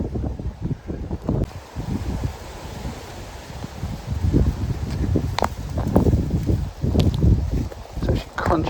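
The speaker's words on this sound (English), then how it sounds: "It's actually crunching underfoot as you walk." Footsteps crunch through fallen acorns beneath an oak tree in gusty wind, a steady run of close, crackling steps with rustling and wind buffeting the microphone throughout.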